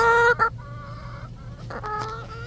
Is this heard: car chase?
no